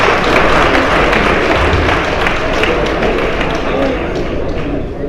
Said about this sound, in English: The applause is too weak,